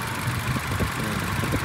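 A 2014 Toyota Kijang Innova G Luxury automatic sits with its engine idling, a steady low rumble heard up close from the engine bay, smooth and even with no other sounds.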